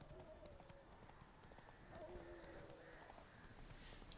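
The horse Roach galloping in The Witcher 3 video game, a steady clip-clop of hooves running under a low, quiet background, with a soft bright chime near the end.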